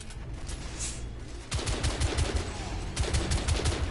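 Rapid automatic gunfire from a newly found gun in The Order: 1886, bursts of dense repeated shots starting after a quieter stretch and continuing loudly in strings of rounds.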